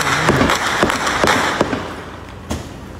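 Several sharp gunshot cracks ring out at a distance in Rio de Janeiro, irregularly spaced, with echoes trailing after each one.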